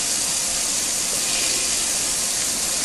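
Tap water runs steadily during handwashing, a continuous loud hiss and splash that stays even throughout with no talking.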